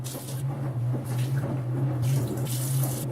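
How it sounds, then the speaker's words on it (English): Hands are washed under a running tap at a sink, a steady close rush of water with shifting splashes as the hands move through the stream, and no talking. "And then wash your hands."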